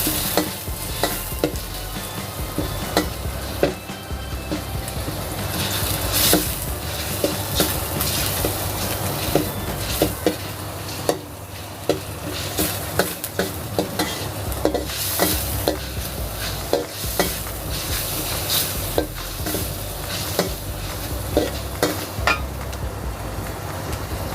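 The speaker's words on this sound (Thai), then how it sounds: "ผัดหมูสับให้สุกนะคะ" Minced pork stir-fried in a pan, a steady sizzle running throughout with frequent scraping and clinking of a utensil against the pan, close and fairly loud, no voices.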